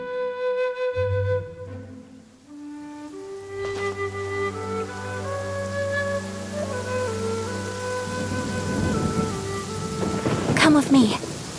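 Rain and thunder in a video game play under a sustained synthesized musical tone, with the downpour and a rumbling roll of thunder swelling louder toward the end.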